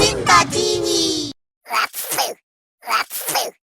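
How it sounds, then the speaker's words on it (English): Three loud, close human sneezes: a long voiced one first, then two separate pairs of sharp, breathy bursts after short silences. "We sneeze as a natural reflex to protect our respiratory system by clearing out irritants from our nose and throat."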